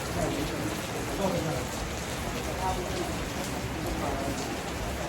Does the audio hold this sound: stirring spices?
no